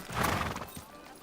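A video game horse whinnies, with hoof clip-clops beneath it, in one short close burst.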